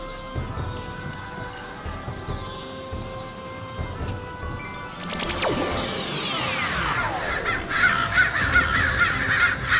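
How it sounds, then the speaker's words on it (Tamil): A crow caws repeatedly in a harsh, steady series, close and loud over a dense bed of music and sound effects, including a sweeping whoosh partway through. "இந்த காக்கா என்ன ஃபாலோ பண்றதை நிறுத்தவே மாட்டேங்குது."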